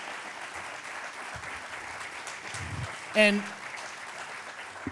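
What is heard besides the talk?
audience applause for presenters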